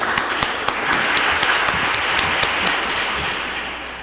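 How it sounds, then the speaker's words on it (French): A congregation applauds inside a church during a Sunday Easter-season Mass, a dense, steady wash of clapping with a few sharper individual claps standing out, fading slightly toward the end. "Oui, on peut les applaudir."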